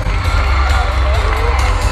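A cheerleading competition crowd roars with cheers and whoops after an award announcement, continuous loud shouting and screaming from many voices throughout.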